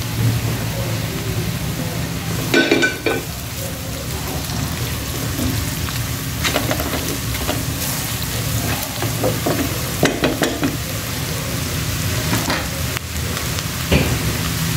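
Garlic and onion sizzle steadily in a hot pan for a Filipino chicken pastel, with a constant crackling hiss broken by sharper scraping bursts as a utensil stirs them, close and fairly loud with no talking.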